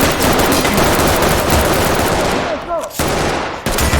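Sustained, loud, rapid automatic gunfire in the tactical shooter Ready or Not, nearly continuous with a few brief breaks toward the end.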